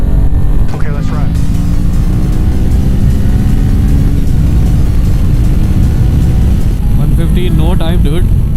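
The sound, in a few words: motorcycle riding with engine and wind noise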